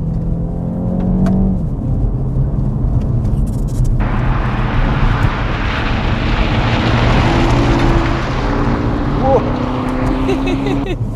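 A 2021 BMW 228i Gran Coupe xDrive on winter tires pushes hard through a curve, its engine droning loud and steady with broadband tire and road roar swelling midway, while voices talk over it.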